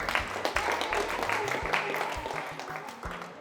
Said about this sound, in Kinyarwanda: Wabarakomeye amashyi Imana, mwarakomeye amashyi Imana.